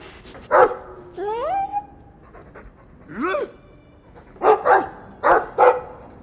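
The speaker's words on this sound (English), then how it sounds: "I like the doggy." A dog in the Dragon Age 2 video game pants and gives several short yips and barks in quick bursts, with a whimpering rise between them, close and clear.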